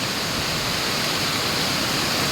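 River water rushes in a continuous, loud broadband roar, close and unbroken, with no voices over it.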